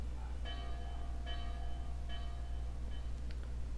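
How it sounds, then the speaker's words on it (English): A sentry tower alarm bell in the Fate/Grand Order game, four ringing metallic strikes at a steady pace, each with a bright decaying tone, over a low droning hum. "That's the alarm bell from the sentry tower."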